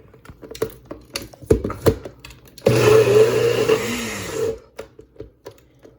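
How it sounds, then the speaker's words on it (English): A NutriBullet blender pulses tofu into a paste, starting with scattered clicks and taps, then one loud close motor whir of about two seconds that winds down, followed by more light clicks. "And so I'm using my little NutriBullet machine."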